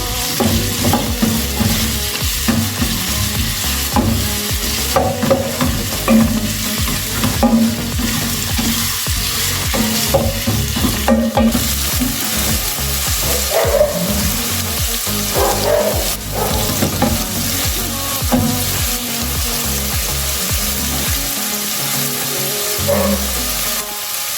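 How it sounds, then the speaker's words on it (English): Onions frying in a pan until golden brown and caramelized, with a steady close sizzle, a few stirring scrapes and no talking. "So I will allow my onions to cook until they are caramelized."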